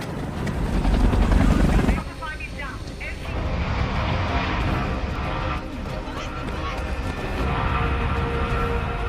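An aircraft in a zombie film rumbles loud and close, a heavy low roar that eases after about two seconds and then keeps going under a narrator's voice.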